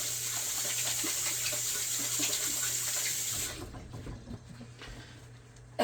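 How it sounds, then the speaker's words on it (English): Hands are washed under a running kitchen tap, a steady close rush of water that cuts off partway through, leaving faint clatter and handling noises, with no talking. "I'm going to wash my hands really,"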